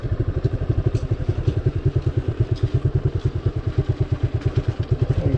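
A motorcycle riding along a narrow one-way road, its engine thumping in a fast steady pulse close by, loud and even throughout with no audible talk.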